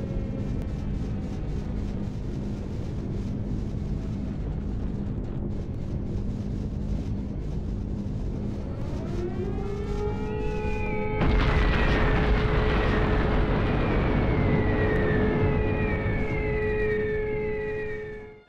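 In the video game Hidden & Dangerous, an air-raid siren winds up and wails over a dense, rumbling drone of heavy bomber engines, loud and continuous, growing stronger midway before fading.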